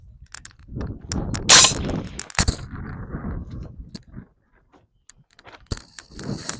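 A delayed blowback firearm fitted with a Silencer Co. Hybrid 46 suppressor fires a few separated, sharp, muffled reports. Metallic clinks and gaps of near silence sit between the shots.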